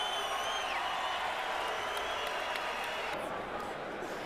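A boxing crowd on its feet at the Barclays Center after the Bernard Hopkins vs Tavoris Cloud bout, sending up a steady, dense roar of cheering and applause that fills the arena for the whole stretch.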